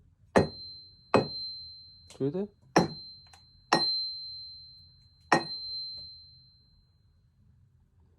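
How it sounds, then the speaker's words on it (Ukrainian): A steel axe head made in 1962 is struck about six times, each hit leaving a bright, sustained ringing tone that hangs in the air; a voice speaks briefly. "Слухайте, як дзвонить."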